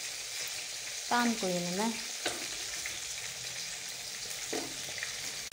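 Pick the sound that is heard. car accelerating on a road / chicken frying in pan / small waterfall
chicken frying in pan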